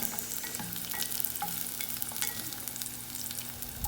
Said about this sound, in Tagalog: Ilagay na natin yung bawang at ang sibuyas.